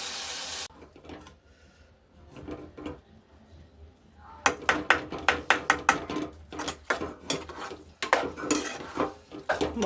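Roasted brinjal bharit being mashed and mixed in a metal pot, with a quiet stretch of soft scraping followed by a run of loud, rhythmic clanks and scrapes of a utensil against the pot.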